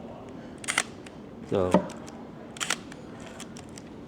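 A Leicaflex SL2 35mm film camera gives a few close mechanical clicks and a short ratcheting film-wind rasp, with brief speech at the start.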